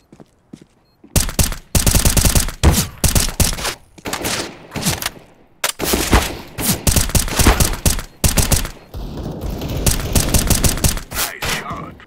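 Gunfire in a bomb-defusal shooting video game: repeated bursts of loud, close shots in quick succession, with brief pauses between volleys and a busier clatter of shots toward the end.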